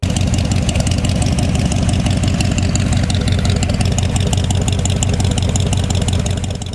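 A 1969 Corvette with a 427 V8 idles at close range, a loud, steady rumble with a fast, even lumpy pulse that holds unbroken throughout.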